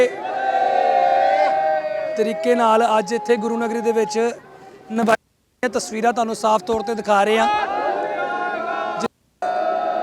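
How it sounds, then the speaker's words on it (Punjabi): Sikh crowd in the Guru Nagari shouting jaikaras, war cries, with loud massed voices rising in bursts over continuous speech, briefly cutting to silence twice. "ਜੈਕਾਰਿਆਂ ਦੀ ਗੂੰਜ ਜਿਹੜੀ ਆ"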